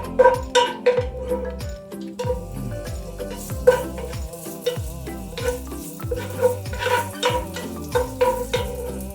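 Ginger sautéed in a pan, a steady sizzle broken by repeated scraping stirs of a utensil against the pan, with soft clinks throughout and no voices.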